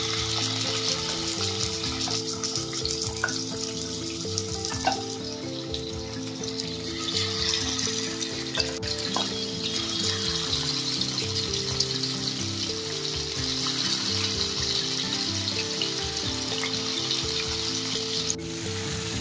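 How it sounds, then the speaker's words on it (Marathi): Prawns fry in a pan with a strong, steady sizzle that runs unbroken for about nineteen seconds. Occasional stirring scrapes and taps sit on top of the crackle, and nobody speaks. "खूप लवकर हे फ्राय होतात।"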